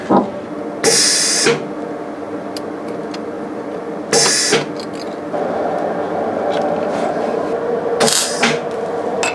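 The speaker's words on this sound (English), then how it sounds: "I'm gonna do the first few welds from the inside just to get it in the correct position." A Saab 900 Turbo body panel is welded from inside, with three short bursts of harsh crackling arc over a low background hum, separated by quiet pauses.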